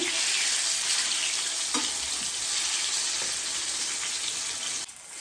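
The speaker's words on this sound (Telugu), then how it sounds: "చూసారు ఎంత బాగా ఫ్రై అవుతుందో" Fish frying in hot oil until golden brown, a dense continuous sizzle and crackle close up, steady throughout with a few faint clinks and a slight drop near the end, no voices.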